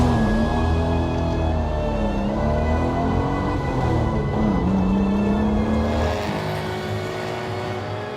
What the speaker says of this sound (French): l'autodrome résonne au son des moteurs des anciennes